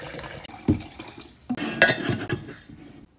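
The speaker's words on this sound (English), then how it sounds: "Let's give it a wash real fast." Simple Modern tumbler with a spin-top lid being washed in a kitchen sink, giving a few short splashing rinses and light clinks of the cup against the basin, close by with no talk.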